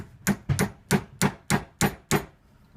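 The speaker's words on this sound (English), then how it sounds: "We're going to take this little hammer," A small hammer strikes metal in seven evenly spaced, sharp taps while bending a broken spoon held in a clamp, close and clear with no voices.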